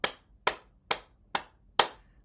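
Five crisp hand claps at an even, brisk pace, done as a circulation and heart-health exercise. They sound close and alone, with no voices.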